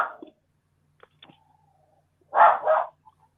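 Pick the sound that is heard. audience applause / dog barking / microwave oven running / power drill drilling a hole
dog barking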